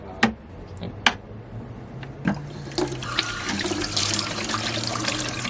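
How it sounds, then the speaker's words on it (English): Sailboat water pump running with water flowing from a tap, opening with a few sharp clicks and knocks before a steady rushing stream builds and continues. "You can hear the pump running."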